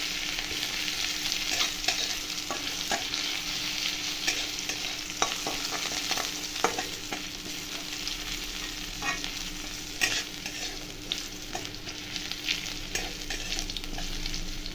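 Crushed garlic frying in hot oil, a steady bright sizzle with scattered crackles and occasional stirring scrapes, close and continuous without any speech.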